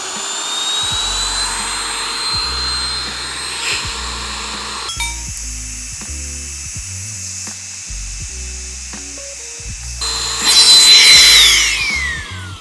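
A Claymore Air electric air pump runs steadily while inflating a self-inflating mat, a close, continuous whirring motor hum with a few clicks and shifts in pitch, rising to a louder, harsher blast near the end.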